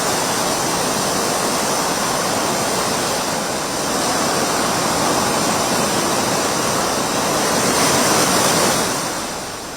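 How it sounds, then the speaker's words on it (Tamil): Rough sea surging along the Tamil Nadu coast as a cyclone approaches, a loud, continuous roar of churning surf with no letup and no voices. "தமிழகத்தின் பல்வேறு பகுதிகளில் கடல் சீற்றம் அதிகரிப்பு."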